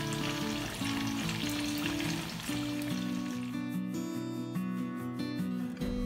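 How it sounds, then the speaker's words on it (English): Mustard seeds, curry leaves and dried red chilies fry in hot coconut oil for sambar seasoning, a loud steady sizzle with crackling pops, with a faint tonal hum underneath. "That's the seasoning for the sambar with mustard seeds, curry leaves and dried red chilies in coconut oil."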